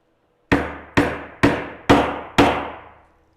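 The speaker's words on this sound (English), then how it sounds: "You want to make sure you come down as evenly as possible, because they're kind of awkward to hammer in." Five sharp hammer strikes on wood at an even, steady pace, each ringing briefly before the next, loud and close with no talking.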